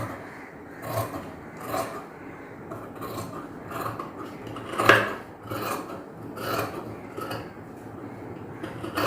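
Scissors cutting chudidhar top fabric in a tailoring session, soft rasping snips recurring in uneven bursts close by, with one sharper cut standing out.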